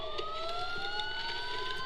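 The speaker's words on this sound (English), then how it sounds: "Sirens. The police." Wailing police sirens in the video game Batman Arkham Asylum, rising pitch sweeps running steadily through the short stretch at moderate level with no talk.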